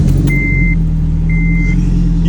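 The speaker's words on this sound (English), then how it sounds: "this is the first start on the brand new motor" A freshly built turbocharged Honda K24 engine fires up for the first time, settling into a loud, steady idle with a low droning hum and brief high-pitched whines, close by with no talking.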